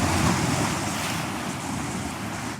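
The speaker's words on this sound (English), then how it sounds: "the power of these waves coming in now" Powerful ocean waves rolling in on the shore, a loud continuous roar of surf mixed with gusty wind buffeting close by, with no voices.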